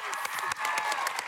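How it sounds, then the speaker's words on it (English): A studio game-show audience claps for the competing teams, a short dense burst of applause at steady volume. "They're clapping you on and they'll be cheering you all the way to our bonus prize round"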